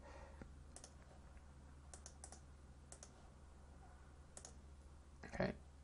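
Quiet, sparse keystrokes on a computer keyboard, a few scattered clicks and short bursts over a low hum, ending with a slightly louder clack.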